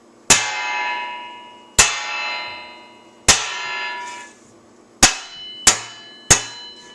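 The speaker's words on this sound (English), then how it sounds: "That sounds more like armor clanging." Six sharp metallic clangs from a small plastic wooden-tip drumstick striking metal, each ringing out and decaying, the last three coming faster; sounds like clanging armor.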